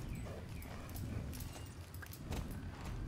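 Steady hoofbeats of a horse ridden across open country in the game Star Stable, a continuous low rumble of footfalls throughout with no voices.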